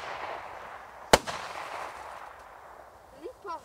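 An eight-shot fireworks battery launcher bought at Auchan goes off with one sharp, loud crack, followed by fainter pops and a brief whistling trail near the end, with no talking over it.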